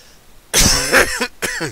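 A couple of harsh, close coughs in quick succession, loud and raspy, with a short pause between bursts.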